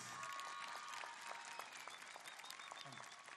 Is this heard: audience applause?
yes